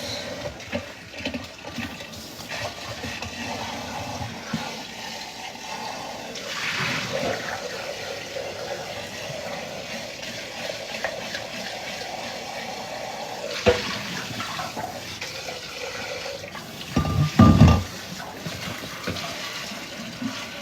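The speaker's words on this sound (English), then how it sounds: "Rinse that out." Tap water running steadily into a kitchen sink while something is rinsed out, a continuous splashing stream with a brief louder gush near the end.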